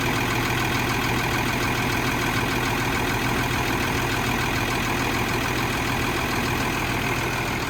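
Old cabover truck engine idling after a cold start at 25 degrees, a loud, steady, rough-running drone with no variation in pace and no talk over it.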